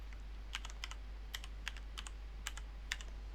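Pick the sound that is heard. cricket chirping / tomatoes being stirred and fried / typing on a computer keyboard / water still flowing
typing on a computer keyboard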